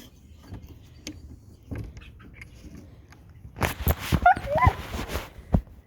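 A dog barks in a backyard while chickens are being fed, starting quiet and then breaking into a cluster of several fairly faint, irregular barks toward the end.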